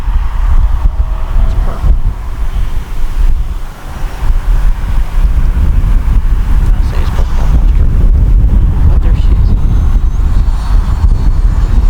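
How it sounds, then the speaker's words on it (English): Strong wind buffets the microphone at an RC flying field, a loud, continuous low roar with gusty surges throughout and no talking. "Yeah, it is windy."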